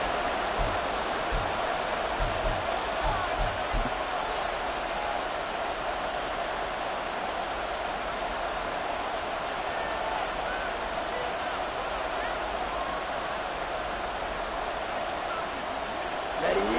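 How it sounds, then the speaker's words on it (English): A football video game stadium crowd gives off a steady, even roar of noise that runs unbroken throughout, with no distinct cheers standing out. "this crowd trying to force a false start here"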